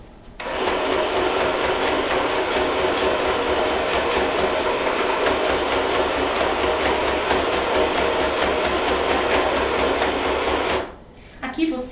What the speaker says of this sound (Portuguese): passa o ponto reto e retrocesso e ponto reto para deixar bem essa alça sustentada